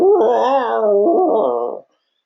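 A human voice imitates a big dog's horrendous noise, a loud wavering howl-like moan that rises, dips, rises again and cuts off into silence.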